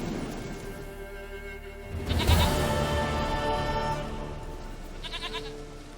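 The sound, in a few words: goat bleating in The Witcher 3 video game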